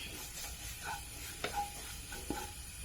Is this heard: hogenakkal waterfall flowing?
no